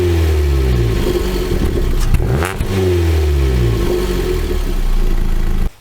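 Ford Fiesta Mk7 with a 1.25-litre petrol engine of about 82 horsepower, heard steadily running and revving up from idle with a smooth mid-pitched drone that rises and falls once, close and loud, with no speech.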